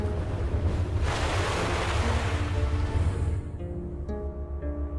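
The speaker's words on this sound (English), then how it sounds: "The biggest fear for all coastal engineers are massive freak waves." Ocean surf washes against a coastal sea defense in a continuous rolling roar, loud and broad, with wind buffeting the microphone and a wave surge that eases toward the end.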